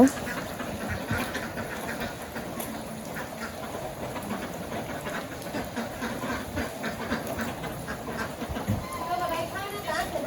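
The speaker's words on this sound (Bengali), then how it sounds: "আমাদের হাঁস এসে পড়ছে বৃষ্টি নামলে হাঁস বাড়িতে এসে পড়ে খাওয়ার জন্য" Ducks coming home in a Bangladeshi village quack now and then amid a steady wash of rain and background noise, with people talking nearby.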